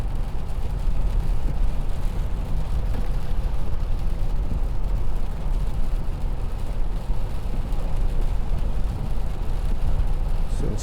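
A 2016 Mercedes-Benz E220 cruises along with a steady, even engine and road hum from inside the cabin; the shift into seventh gear is smooth and barely noticeable, and no one speaks.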